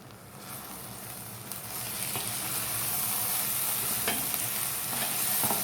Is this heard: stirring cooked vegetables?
yes